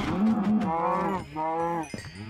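Cattle mooing in a farming video game, a couple of long, loud, close lowing calls one after another, the second slightly shorter, with a faint cowbell-like clink near the end.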